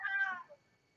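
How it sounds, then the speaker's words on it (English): A single cat meows once, a short, clear mewing call up close that fades quickly into near silence. "That's a cat, I can hear it."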